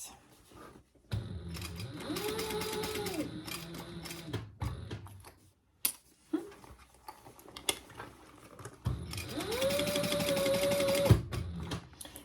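Domestic sewing machine stitching a fabric bag at a 3 mm stitch length, running in two steady bursts of a few seconds each with a pause and small handling noises between.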